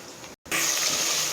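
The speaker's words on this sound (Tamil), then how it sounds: "தண்ணியை வடிச்சிக்கலாம்." Water drains from salt-soaked bitter gourd in a home kitchen, a short splash, a brief pause, then a steady close gushing pour.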